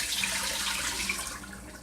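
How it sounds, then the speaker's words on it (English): Three cups of water pour steadily into a saucepan, making a continuous, even rushing and splashing noise at close range with no speech. "So I got my saucepan, and I'm using 3 cups of water."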